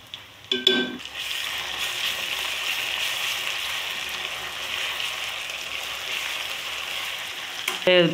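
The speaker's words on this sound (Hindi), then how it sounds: "तकरीबन 2 मिनट भून लूँगी मैं लहसुन अदरक को, ताकि इसकी अच्छी स्मेल आनी शुरू हो जाए।" Crushed garlic and ginger frying in a pan for shami kabab, giving a steady, close sizzle that runs for several seconds, with a brief clatter at the start and end.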